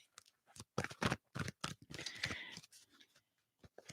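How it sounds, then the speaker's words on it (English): Tarot cards shuffled by hand in quick irregular bursts of crisp riffling and slapping, close and quiet, with short pauses between the bursts and no talk. "Let me just keep shuffling."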